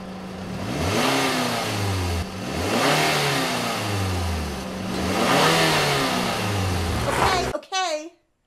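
A car engine revs repeatedly in rising and falling sweeps, fairly loud and close, before the sound cuts off abruptly near the end, followed by a brief tail.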